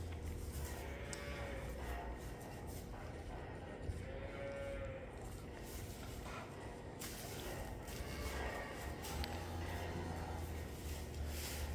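Cattle mooing inside a barn housing about seventeen cows, including an older cow and a newborn calf, with several drawn-out low moos spread across the clip over a steady background hum.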